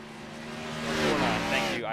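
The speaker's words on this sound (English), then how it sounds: "let's just kind of listen to how he works the throttle" A NASCAR race car engine in the iRacing video game, at Richmond, revs and climbs in pitch, with strong harmonic engine tones rising and falling, under a voice talking.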